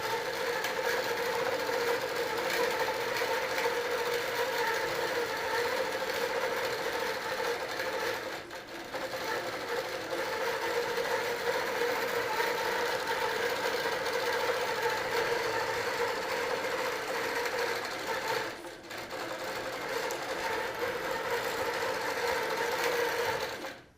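A quilting sewing machine stitching steadily, a constant mechanical whirr with even rapid needle rhythm, close and moderately loud, pausing briefly twice.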